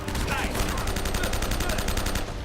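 Rapid automatic gunfire from the action game Uncharted 1, a dense run of evenly spaced shots with a brief pause near the end, loud and close.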